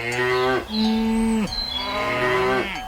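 A cow moos three times in a row, each call long, loud and close, with a low drawn-out tone and no other sounds.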